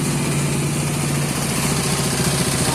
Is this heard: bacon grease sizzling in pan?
no